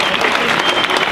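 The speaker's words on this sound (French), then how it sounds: "que je vous demande d'applaudir" A crowd at a political rally applauds loudly, a dense and steady wash of many clapping hands filling the whole moment.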